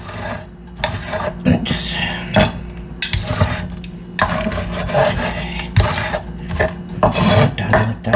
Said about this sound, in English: cut the bacon up really nice and small